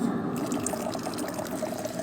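Water flows down under gravity during an equator demonstration in Kenya, making a steady, close trickling and gurgling wash with faint drips throughout and no voices.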